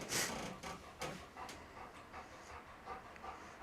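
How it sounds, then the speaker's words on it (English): A dog panting in quick, rhythmic breaths, close and moderately loud, with no talking over it. "Get a little dog sound effects here."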